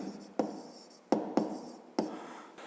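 Pen scratching across paper in short strokes with a few sharp taps, close and quiet, no voices.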